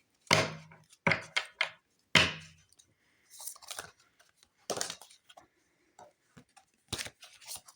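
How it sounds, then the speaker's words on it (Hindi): Oversized tarot cards are shuffled by hand in sharp, separate bursts of riffling and slapping, close and clear, with quiet gaps between the handfuls. "ये थोड़े से बड़े कार्ड हैं तो थोड़ा शफल करने में प्रॉब्लम होती है."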